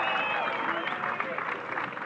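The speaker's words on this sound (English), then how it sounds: "give a big round of applause for yourself" Outdoor crowd at the Red Bull King of the Air big air kitesurfing final applauding, a steady wash of clapping and cheering heard at moderate distance with a voice over it.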